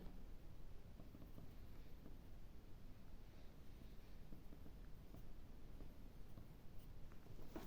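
Pen writing a capital cursive Ukrainian letter R on paper, a steady close scratchy scraping that runs continuously with small rhythmic strokes and no talking.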